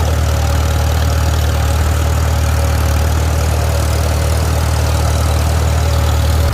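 A Farmall A tractor engine runs steadily up close, a loud, constant low chugging with no pauses.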